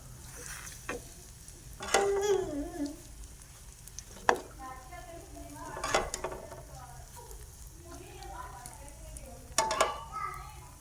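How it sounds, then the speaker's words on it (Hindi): Butter sizzling in an oiled frying pan over medium heat, a faint steady sizzle with occasional utensil clinks, while a voice speaks over it. "तो इसी तरह हम अपना बटर डालेंगे।"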